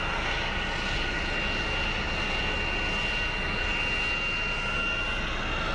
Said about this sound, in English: It's a 737-800 series. That is a loud APU.